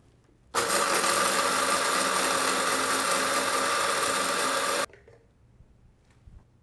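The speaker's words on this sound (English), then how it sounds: "I'm grinding the allspice, cloves, peppercorn, and nutmeg." An electric spice grinder runs in one steady, loud burst of about four seconds while whole allspice, cloves, peppercorns and nutmeg are ground for a jerk seasoning, then cuts off abruptly into near silence.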